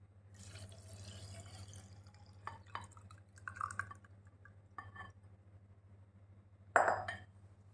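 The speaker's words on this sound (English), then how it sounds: "pour this petrol in this bottle" Ordinary petrol pouring into a bottle gives a soft liquid trickle with scattered drips and light clinks over a steady low hum, ending in a brief louder splash near the finish.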